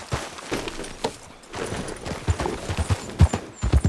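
Horse hooves clip-clop in Red Dead Redemption 2, an uneven run of dull thuds that thickens into a quicker, heavier trot toward the end.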